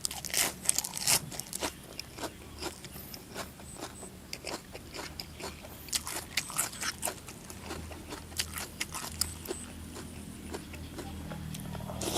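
Close, crunchy chewing of spicy Thai-Lao papaya salad with large octopus tentacles and crisp fresh vegetables: repeated sharp crunches and wet bites in an uneven rhythm, with no talk.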